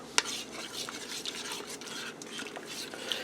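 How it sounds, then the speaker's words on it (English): A spoon stirs Salisbury steak gravy in an Instant Pot after a teaspoon of Himalayan pink salt, black pepper and garlic goes in: one sharp metal clink, then soft, steady scraping and swishing close by. "Give that a stir."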